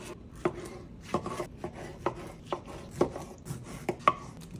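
Fresh tomatoes are cut in half with a knife on a board, a steady series of soft, close thuds and slicing taps roughly every half second, with no talk.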